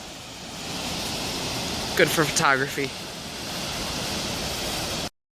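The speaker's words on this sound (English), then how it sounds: "So we're on the other side of the bridge from the waterfall." Steady roar of a waterfall and rushing creek water on a cedar-lined trail in Glacier National Park, heard from a bridge, continuous and close, with someone talking briefly over it.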